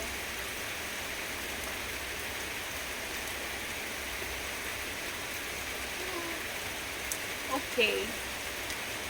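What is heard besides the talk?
rain falling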